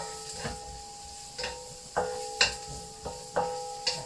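Ingredients sautéing in a pan, a quiet steady hiss broken by regular scraping strokes of a utensil roughly every half second.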